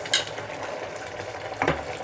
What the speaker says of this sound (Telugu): ఒకసారి బాగా కలుపుకుందాము